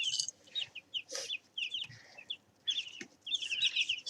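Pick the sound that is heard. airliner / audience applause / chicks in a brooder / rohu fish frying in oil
chicks in a brooder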